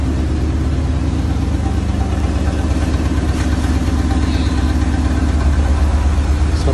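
An old Peugeot 206 engine runs loudly and steadily up close, a dense, continuous mechanical drone with no voices over it.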